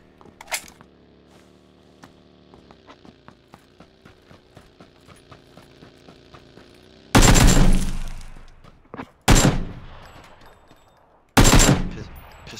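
Three loud, booming shotgun blasts from a video game ring out a couple of seconds apart, each with a short decaying tail, after a stretch of quiet, steady mechanical ticking and clicking.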